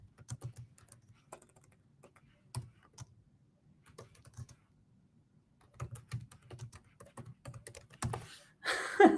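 Bursts of typing on a computer keyboard, with irregular clusters of key clicks separated by short pauses, fairly close and moderately quiet, and a louder rustle near the end.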